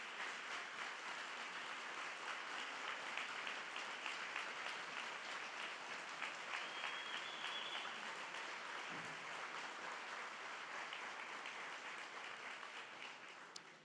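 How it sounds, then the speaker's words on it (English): A breakfast-event crowd gives sustained applause for teachers, mentors and volunteers, an even, distant-sounding roar of clapping that runs unbroken to the end. "You deserve a round of applause."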